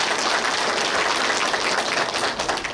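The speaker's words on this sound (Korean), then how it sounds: "박수로 맞아주시기 바랍니다" Steady, dense applause from an audience welcoming a National Assembly member at a county governor's community meeting in Buyeo, a continuous wash of many hands clapping with no voices on top.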